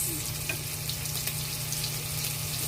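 Red onion frying in oil for pansit, a steady close sizzle and hiss from the pan that stays level throughout with no talking.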